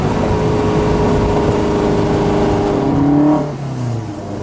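A 1965 ASA 1000 GT Spider with a little 1-liter four-cylinder engine cruising in fourth gear, a steady loud droning hum from inside the car that eases off near the end, no talking.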